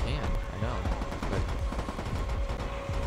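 Gunfire from the co-op shooter Army of Two, with dense, rapid bursts of shots rattling continuously throughout, mixed under players talking.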